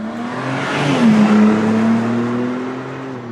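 A BMW M3 Competition Wagon drives past close by with a loud, steady engine drone whose pitch dips and then holds as it moves.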